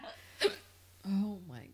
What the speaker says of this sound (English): The hiccups.